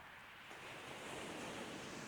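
Sea waves break and wash over the shingle of Chesil Beach in Dorset during a cod fishing trip, a steady broadband roar of surf that swells slightly louder after the first half second, with wind noise and no voices.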